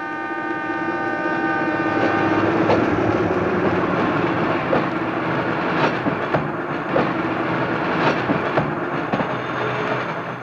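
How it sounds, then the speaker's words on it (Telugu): A train rumbles steadily as it arrives, wheels giving off a series of rhythmic clicks and clanks over the tracks, fairly close and without talk. "ట్రైన్ వస్తుంది"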